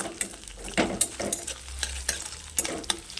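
Ginger sizzles quietly frying in a pan while a utensil scrapes and clicks against it in irregular stirring strokes.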